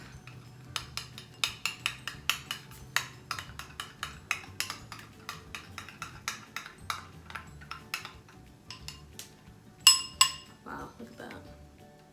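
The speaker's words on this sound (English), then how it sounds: "Now what we're gonna wanna do is start stirring that up." A utensil stirs bacon bits and filling in a bowl, giving a rapid series of sharp clinks against the bowl, close and clear, with a person speaking briefly.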